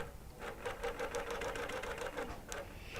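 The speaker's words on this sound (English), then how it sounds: "I'm doing this basting stitching near the edge of the quilt within a 1/4 inch" A quilting machine runs a basting stitch along the edge of a quilt, giving a steady rapid mechanical chatter that stays even and close throughout with no talking.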